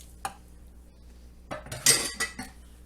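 A spoon or whisk clinks and scrapes against a mixing bowl while pumpkin puree, sugar and coconut oil are stirred together for pumpkin cheesecake bread; a faint tap comes first, then a close, busy burst of clatter.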